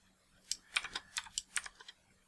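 Typing on a computer keyboard while writing C# code: about ten quick, crisp key clicks in an irregular rhythm, close and fairly quiet, with no voice.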